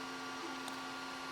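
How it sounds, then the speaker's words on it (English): 3D printer running in the background while a vintage 1976 Mego Fonzie motorcycle toy is repaired, a faint steady whine and hum with no other activity. "3D printer's running"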